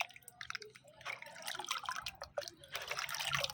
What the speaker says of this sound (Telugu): ఇప్పుడు ఈ వాటర్లో ఈ మిశ్రమాన్ని మిక్స్ చేసుకుందాము